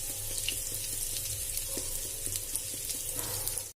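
Mustard seeds and cumin crackle and sizzle in hot oil, a steady close frying hiss with scattered pops throughout, no voices.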